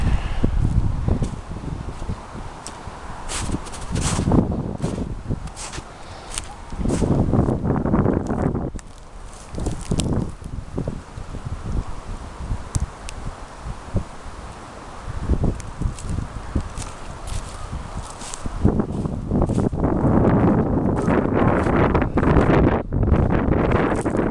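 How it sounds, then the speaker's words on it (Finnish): Strong gusts of wind on a hill buffet the microphone, roaring in uneven bursts that rise and fall, with occasional rustling and faint footsteps. "Tuuli on kyllä tosiaan melkoinen."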